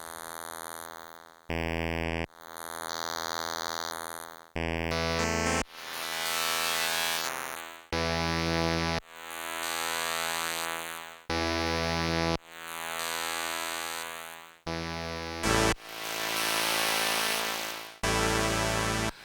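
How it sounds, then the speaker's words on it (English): A series of sustained sine-wave tones from a Kodamo Mask1 synthesizer, each held for a second or two with brief gaps, the pitch and timbre shifting between notes. "So we're in a sine wave here."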